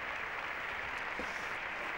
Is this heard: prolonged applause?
yes